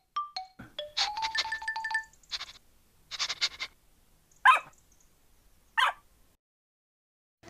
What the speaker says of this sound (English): It's a little dog Fido.